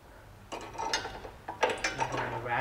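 A ratchet wrench turns a nut on a 2006 Honda Element during front left lower control arm work, giving quick bursts of metallic clicking, close and fairly quiet, in two short spells.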